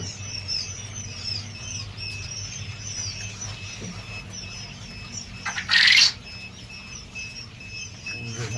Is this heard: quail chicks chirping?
yes